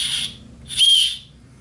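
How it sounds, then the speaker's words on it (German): A backpack chest strap whistle sounds twice in quick succession, shrill, the first breathy and brief, the second stronger and steadier, close and loud. "damit wir auch die Pfeife mal getestet haben"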